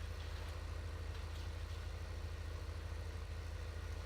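A tractor engine in the video game Farming Simulator 15 runs at a steady idle-like chug, a continuous low rhythmic rumble at moderate loudness with no talk.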